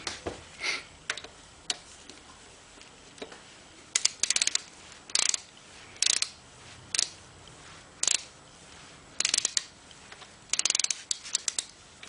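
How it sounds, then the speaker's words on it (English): A torque wrench works on the drain plug of a BMW K75 motorcycle, giving a series of sharp metallic clicks and ratcheting snaps in irregular bursts against a quiet background. "I torque this down to 15 foot-pounds"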